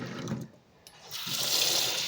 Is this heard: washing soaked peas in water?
yes